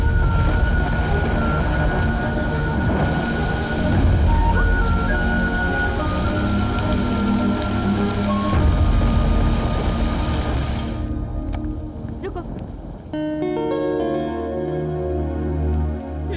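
Heavy rain falls in a scene from a Hindi-dubbed feature film as a dense, continuous, loud hiss of drops on surfaces, shifting in texture near the end, with no talking.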